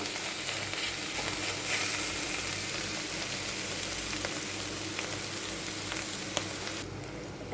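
Shredded cabbage with coconut and turmeric fries dry in a pan, a steady close crackling sizzle running throughout with faint stirring ticks.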